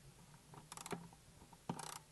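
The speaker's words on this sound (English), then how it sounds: "grab your socket wrench, and tighten it down once you've got it over the hose barb" A socket wrench ratchets a hose clamp tight over stainless steel braid on a hose barb, in two short bursts of quick clicking separated by a pause, close and fairly quiet.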